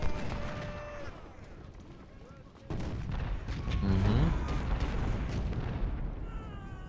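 Massed rifle volleys from a Civil War infantry unit in Ultimate General: Civil War, at the Battle of Gaines' Mill, crackle as a sustained fusillade with distant booms, layered under a tonal game soundscape and a voice.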